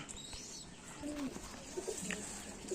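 Soft pigeon coos sound in short rounded phrases, fairly close, over faint background noise, with a brief rustle of wings or movement.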